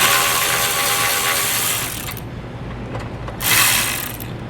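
A ratchet with a 10mm socket loosening the bolt on a car horn bracket, a rapid clicking ratchet run up close, a short pause, then another quick burst of clicks.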